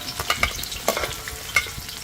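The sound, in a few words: onion frying in warm oil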